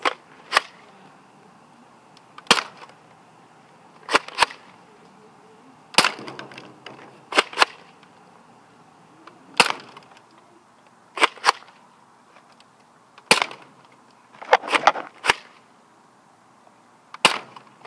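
A Nerf Vagabond blaster fires foam darts at targets, sharp isolated snaps spaced a second or two apart, some in quick pairs, close and clear over a quiet background.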